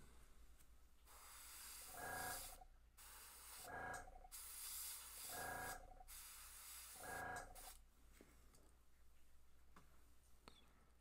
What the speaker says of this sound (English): And you see by kind of holding it above with a spray